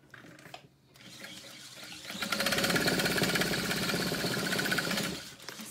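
A sewing machine stitches a zipper and lining fabric together for a small pouch, running in a steady, close, continuous whir for about three seconds after a brief quieter start.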